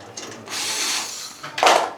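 A power drill whirs in a couple of short bursts while backing out screws from the hanging stand of a bladeless ceiling fan, close by, with a sharper mechanical burst near the end.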